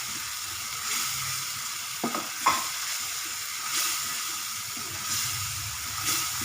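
Masala spices cook with onion in a pan for a UP-style potato dish, a steady close sizzle and frying hiss with a few scraping stirs of a spoon against the pan.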